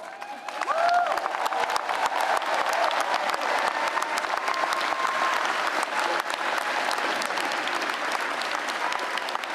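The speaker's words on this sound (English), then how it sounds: "Applause." Sustained applause from a crowd at a spring law school graduation ceremony, swelling quickly after the first second into steady, dense clapping that continues without letup to the end.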